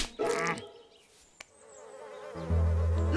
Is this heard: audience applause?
no